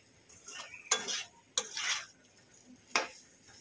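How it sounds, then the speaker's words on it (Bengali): Spatula stirring pointed gourd (potol) with spices and egg in a metal pan, three distinct scraping, clinking strokes with soft sizzling between them, close and fairly loud, no talking. "একটু নেড়ে চেড়ে নেব ভালো করে মশলার সঙ্গে পটলগুলো"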